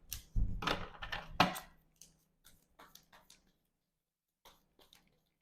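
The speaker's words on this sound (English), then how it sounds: "And then let's shuffle up the player deck over here." A deck of game cards being shuffled by hand, a few quick rustling riffles followed by soft, sparse taps as the cards settle, close and quiet.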